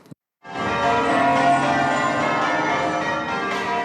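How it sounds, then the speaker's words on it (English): Church bells ring out across London for the 80th anniversary of VE Day, a loud, rich, sustained peal of overlapping bell tones that rises after a brief silence and hangs in the air throughout. "bells rang out across the capital to mark the 80th anniversary of that momentous Allied victory"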